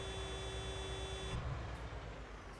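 A steady electronic tractor horn tone in Farming Simulator 19 (TLX9000 mod) sounds over a low rumbling engine, cutting off about halfway through while the engine keeps running.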